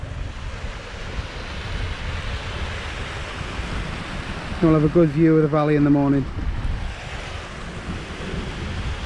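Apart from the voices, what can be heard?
small waterfall flowing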